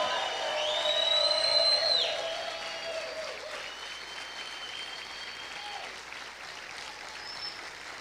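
Congregation in a church service applauding and shouting, loudest in the first two seconds and then tapering to a steadier, softer clapping with scattered voices.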